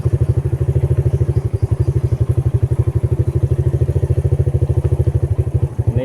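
Motorcycle ridden over a rough road, its engine chugging with a steady rapid pulse and loud throughout, with rattling clatter from the bumpy surface and a brief thump near the end.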